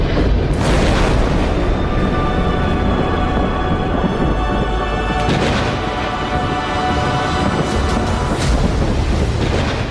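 Thunder from lightning strikes at Bijli Mahadev rolls as a loud, continuous rumble with heavy booming swells near the start and again around the middle. It fills the whole stretch without any voices.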